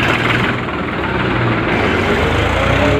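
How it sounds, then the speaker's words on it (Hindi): A Massey Ferguson 1035 tractor idles at a tractor market, a loud, steady low engine drone running unbroken throughout. "मेसी 1035 है ये"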